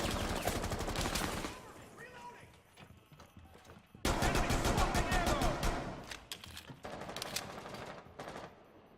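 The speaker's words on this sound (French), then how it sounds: "Il est fun, ce fusil à pompe." Shotgun fire in the shooter game Rainbow Six Siege, sharp bursts of blasts in two loud stretches separated by a quieter gap, with other game noise in between.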